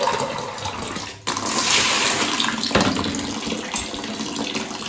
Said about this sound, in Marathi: पहिला मी बालदी भरायला लावते